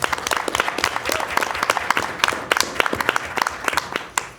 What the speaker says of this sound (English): I thought he deserved, you know, a round of applause for that